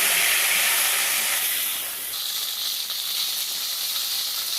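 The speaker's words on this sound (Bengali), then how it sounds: "টমেটোটা ভেন্ডিগুলো আগে সুন্দর করে ভেজে" Tomato and okra frying in a pan in a village kitchen, a steady loud hiss and sizzle that runs throughout, easing slightly about halfway.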